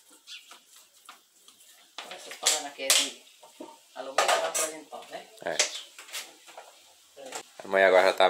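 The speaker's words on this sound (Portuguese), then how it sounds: "Mãe agora já tá mexendo aqui, ó." A spoon clanks and scrapes against a metal pot in uneven bursts while buchada filling is stirred nearby, with people chatting in between.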